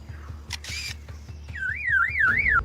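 A lyrebird mimics a camera shutter with a couple of sharp, close mechanical clicks, then breaks into a loud, wavering electronic-style whistle over a steady low background hum.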